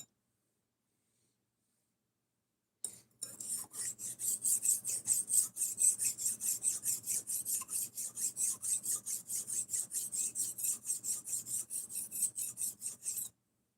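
A blade is stroked back and forth on a premium sharpening stone, giving a steady run of rhythmic, close rasping strokes that begins after a few seconds of silence and continues to the end.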